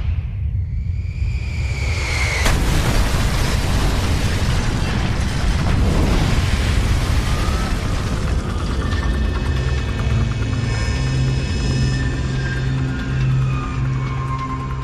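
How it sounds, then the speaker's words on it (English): Deep, roaring blast from the crashing airliner over Lockerbie, with a sudden loud onset after a low rumble, then a sustained heavy roar and drone lasting throughout, close and overwhelming. "When it hit, there was the most horrendous explosion"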